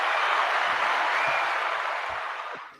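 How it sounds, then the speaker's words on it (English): An indoor evening audience claps in a steady, dense wash of applause that fades out toward the end, with a few low voices faintly underneath. "applause."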